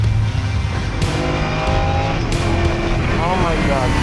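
A Lamborghini Super Trofeo race car drives on a track, its engine roaring loud and close and rising and falling in pitch as the driver works through the gears.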